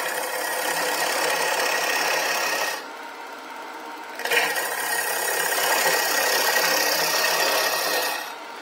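A woodturning gouge chatters against a spinning birch bowl on a lathe: a loud, continuous raspy scraping that stops for about a second and a half midway, then resumes.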